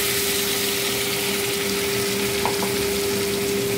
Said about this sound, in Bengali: আলু ভাজাটা প্রায় হয়ে এসছে। এখন আমি এখানে দিয়ে দেবো পেস্ট করা সব মশলাগুলো।